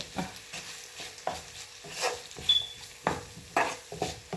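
Mustard seeds fry in oil in a pan, heard close and fairly quiet as a series of separate crackling bursts and pops spaced about half a second apart.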